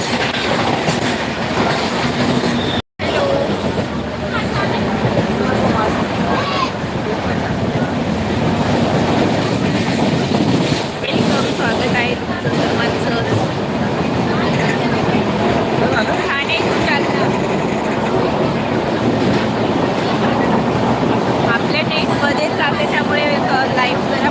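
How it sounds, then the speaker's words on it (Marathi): Inside a moving train travelling from Thane to Jalna, a steady loud rumble and rattle of the carriage runs throughout with a brief dropout near the start, and faint voices mixed into the noise. "पाचला ट्रेन आलेली आहे म्हणजे फास्ट जाते"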